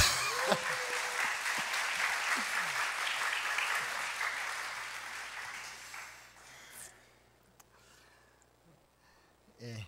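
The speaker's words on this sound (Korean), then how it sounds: "큰 박수로 격려해 주시길 바랍니다." A church congregation applauds warmly in a Korean church service, dense clapping that fills the room for several seconds before fading out into quiet.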